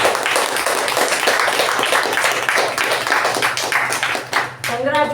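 Audience at a Toastmasters meeting giving a sustained round of applause, many people clapping steadily and fairly close, continuing for about five seconds with a voice briefly heard near the end.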